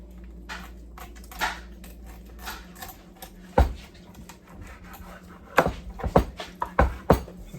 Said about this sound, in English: Nice sharp knife, goes right through the gristle there